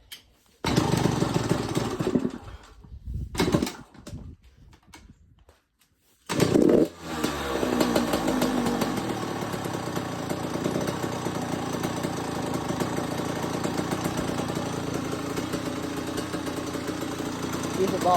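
A 2010 Yamaha YZ85 two-stroke dirt bike engine after a carburetor adjustment starts in bursts, stalls briefly, then catches and runs at a steady, buzzy, close idle.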